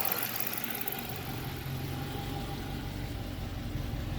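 A Ford Taurus-era Dad's Pursuit car engine idles steadily after a cam swap, a continuous close mechanical hum with low rumble and faint ticking, running alone without talk.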